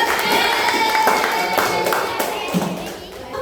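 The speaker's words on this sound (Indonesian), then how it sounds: "Terus tepuk tangan untuk Bagas." Classmates clap for a student in a classroom, a scattered burst of hand claps mixed with children's voices and chatter.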